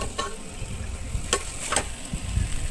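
About 100 grams of mutton is stirred into a pot of mutton and potato curry, with soft scraping and a few brief clinks of a spoon against the metal over a low, steady sizzle.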